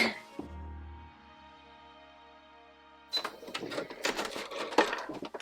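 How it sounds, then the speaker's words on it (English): A sewing machine stitches along a chalk line on a vintage-inspired bat costume. A quiet motor hum gives way to a rapid, rattling mechanical clatter that runs at close range. "I'm going to go ahead and sew along my chalk line here"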